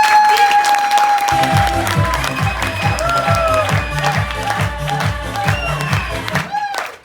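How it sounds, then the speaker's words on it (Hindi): Loud applause and cheering from a crowd over steady rhythmic music with a thumping beat, fading out at the end. "उनके लिए जोरदार तालियां"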